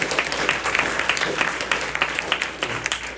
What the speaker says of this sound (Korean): 다시 한번 큰 박수로 격려해 주십시오